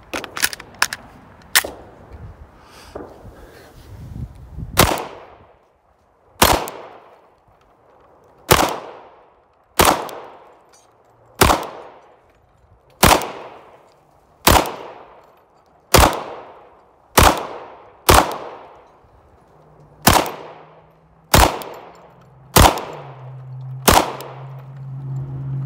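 CZ P-07 pistol fires a 17-round magazine of Tula 115 ammunition: sharp, loud single shots at a steady pace of roughly one per second, each echoing briefly outdoors, with a quicker burst of shots at the start.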